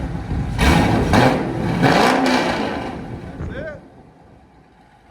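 A 2013 Chevy Camaro SS with a 6.2L V8, long tube headers and a Corsa Extreme exhaust revs hard twice in close succession with a deep roar, then settles back to a low idle as a voice speaks briefly.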